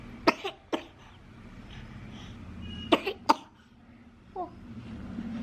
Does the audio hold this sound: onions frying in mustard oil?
no